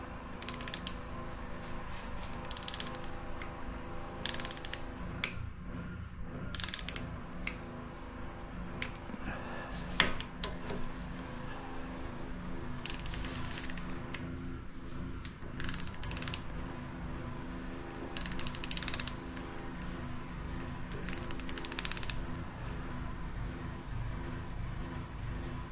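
Torque wrench tightening parts on a VW 2.0 Type-4 air-cooled engine during a crankshaft build, giving steady faint mechanical ratcheting and clicking over a continuous low hum, with no talk.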